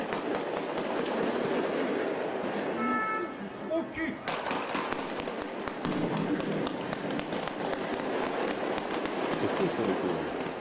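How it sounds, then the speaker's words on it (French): Rapid bursts of sharp cracks and pops crackle continuously, a dense volley of gunfire at a moderate distance with some voices mixed in. "Échange de coups de feu nourris."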